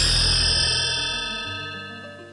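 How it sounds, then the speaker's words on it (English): The EverQuest video game level-up chime, played through a soundboard, rings out as a single bright metallic clang that decays slowly over about two seconds. "that was the level up sound"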